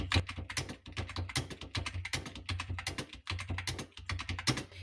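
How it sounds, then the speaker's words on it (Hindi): Rapid, steady clatter of keys on a computer keyboard as Hindi is typed in the Kruti Dev font, close and clear, with short irregular pauses between bursts of keystrokes and no talking. "इस तरह से आप बार बार इसको टाइप करेंगे।"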